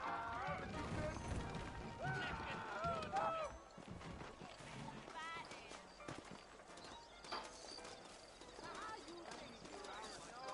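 Horses trot along with steady clip-clopping hooves in the Red Dead Redemption video game, with a brief whinny early on, moderately loud and mixed under background music and voices talking.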